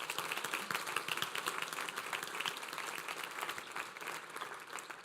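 Steady audience applause at a United Way kickoff breakfast, moderately faint and continuous throughout, with no talk over it.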